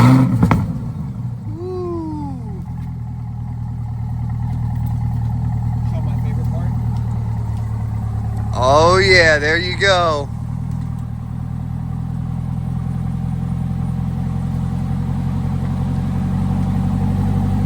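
Stock Chevrolet Corvette C8 exhaust holds a steady, loud low idle throughout, with one short, sharp rev blip in the middle. People talk over the start of it.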